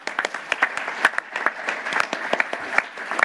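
Modest audience applause at a conference closing plenary, a smaller group clapping with distinct individual claps audible, moderately loud and steady.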